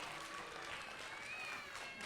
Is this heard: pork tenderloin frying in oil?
no